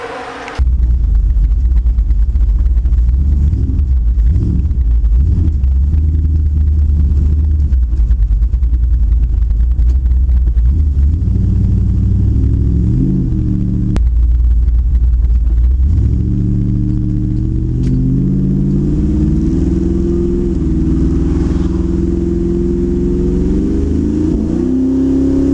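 A car engine fitted with a Thermoquad carburetor, started up and driven, a loud close rumble that idles steadily and then revs up and pulls with rising pitch before falling off, lasting about twenty-five seconds.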